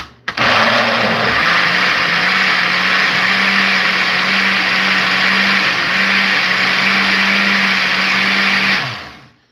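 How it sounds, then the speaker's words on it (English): A blender running on green plantain, green bananas, bulgur wheat and oatmeal: a loud, steady motor whine held for about eight seconds, then winding down to a stop. "We're gonna blend this"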